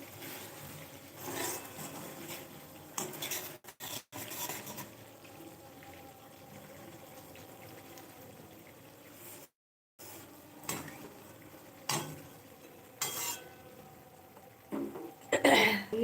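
A utensil stirs and scrapes matar paneer curry with potatoes in a wok, soft intermittent rubbing and clatter at low level, broken by a brief silence and a few sharper knocks, with a cough and faint talk.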